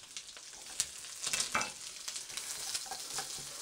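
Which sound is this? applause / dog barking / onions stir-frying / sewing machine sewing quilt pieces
onions stir-frying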